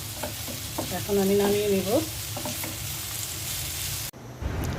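Bitter gourd frying in a pan, with a continuous crackling sizzle and scraping stirring sounds throughout, someone speaking briefly over it, and a short abrupt drop in the sizzle near the end before it resumes.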